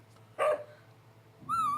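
A puppy's short bark or yip from a video game, heard once near the start as a bright burst over a low steady hum, followed by a tonal chime.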